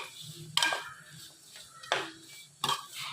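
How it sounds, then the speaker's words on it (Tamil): A spoon scraping and clinking against a metal pot while chilli powder masala is stirred and sautéed, three sharp scrapes spaced about a second apart over a faint low sizzle, close and with no talking. "இது நல்லா வதங்கி வரட்டும்."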